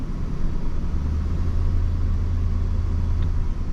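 Dodge truck engine with low oil pressure held at a little gas, giving a steady, loud, close rumble with a constant low drone throughout and no talk.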